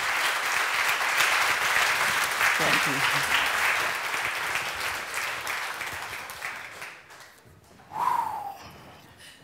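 A keynote audience at a congress applauds a journalist and filmmaker, with sustained clapping that gradually fades, before a close voice speaks briefly near the end.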